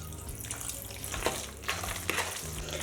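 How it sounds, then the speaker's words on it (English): Water runs and splashes into a pan of guacamole pasta sauce, a steady close rush with small bubbling and spattering bursts throughout. "And now I'm going to add some water."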